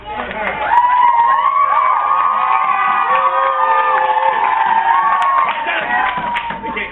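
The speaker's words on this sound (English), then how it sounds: "I need you guys to cheer them on, just like as if you were cheering on somebody who's getting their real black belt." Crowd of children cheering and shouting loudly during a martial arts board-breaking demonstration, a sustained burst of excited voices and whoops close by, with a little clapping mixed in.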